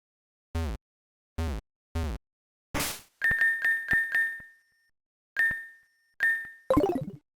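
Pokemon HeartGold/SoulSilver game sound effects play with no music: three short bumping beeps, then a crisp burst and a series of sharp repeated chiming rings in clusters, ending with a bright jingle, all clean and close with no talking.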